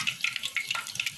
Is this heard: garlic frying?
yes